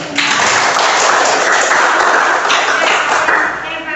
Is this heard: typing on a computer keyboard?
no